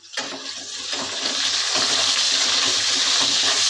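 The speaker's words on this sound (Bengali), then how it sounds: "দেখো আলুগুলোকে আমি নাড়ছি লাল লাল করে ভেজে নিচ্ছি" Potatoes fry in hot oil while being stirred, a loud, steady hissing sizzle that swells after a few scraping stirs and then holds constant.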